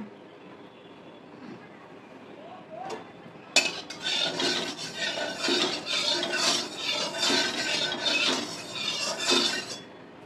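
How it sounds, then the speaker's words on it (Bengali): Fish fat hits hot oil in a wok with a sudden loud sizzle, then a steady crackling, spattering fry continues close by for several seconds, with faint clinks of a utensil against the pan. "ফোড়ন ছাড়া মাছের তেলটা ভাজা করব"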